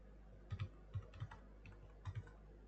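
Computer keys tapped in a few short clusters of two or three soft clicks, close and quiet, with pauses between bursts and no talking.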